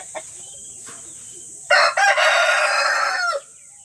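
Rhode Island chickens on a farm, a loud, close rooster crow lasting nearly two seconds, preceded by a few soft clucks against a quiet background.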